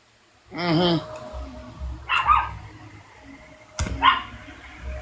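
A dog nearby gives a whining yelp, then two sharp barks a couple of seconds apart, each loud and close in a quiet indoor space.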